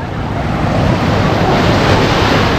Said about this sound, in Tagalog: Malakas na yung alon. Nag-high tide na siguro.